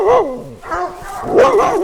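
Dog in a forest during hunting season giving sharp barks and whining yelps as hunting dogs approach, loud and close, in uneven bursts.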